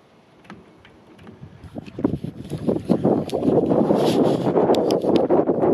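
Wind and splashing water during a short sailing trip, starting quiet and swelling into a steady, close rush of water and gusting wind with scattered knocks and rattles.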